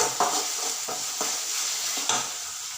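Onions frying with ginger garlic paste in a pan, a continuous bright sizzle with a spoon scraping and stirring in regular strokes, close and moderately loud, no talk.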